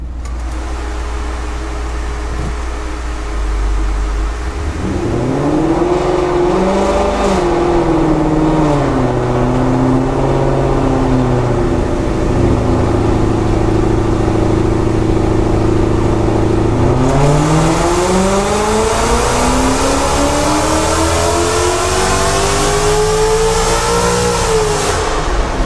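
A supercharged Ford Coyote V8 makes a full-throttle pull on a dyno, idling low before climbing steadily in a loud, sustained rising roar, then easing briefly and surging again toward the end, with a dyno fan whirring in the background.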